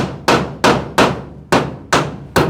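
Six loud, close hammer strikes drive nails into pilot-drilled wood. The blows are crisp and evenly spaced, with a short decay after each one, and no one speaks.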